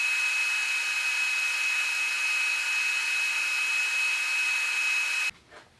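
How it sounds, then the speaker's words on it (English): Welding a steel frame in a garage shop: a steady, even hiss with a constant high whine that holds for over five seconds, then cuts off abruptly into near quiet. "now I'm going to go ahead and fully weld up this frame here"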